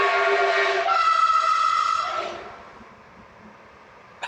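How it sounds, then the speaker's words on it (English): A train sounds a loud sustained multi-tone horn near woodland, holding for about two seconds before fading into a quieter rumble as it passes. "That'll be a train then."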